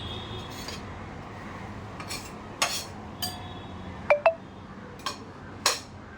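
Vegetables for a paneer salad being tossed together in a bowl, marked by a handful of sparse, bright clinks of a utensil against the bowl over a quiet background.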